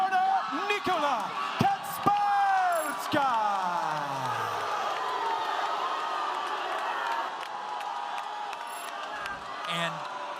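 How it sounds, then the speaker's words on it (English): At a boxing or MMA event after a split decision, a large arena crowd gives a sustained, loud wash of jeers and noise that lasts throughout, with shouts and whistles on top, while an announcer's amplified voice is heard early on. "I don't know what you're booing"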